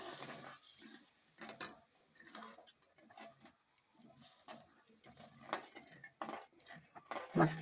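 Mutton being stirred with stock water in a pan, with a utensil scraping and clinking against the metal in irregular strokes, fairly quiet and close, no talking.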